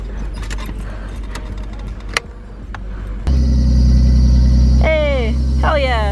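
A drift car turns over and its engine catches. Keys jangle over faint chatter, a click follows, then the motor starts abruptly and settles into a loud, steady idle with a rising whine.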